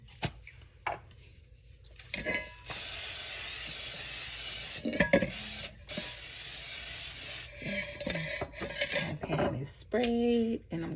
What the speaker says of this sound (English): I'm gonna take my vegetable spray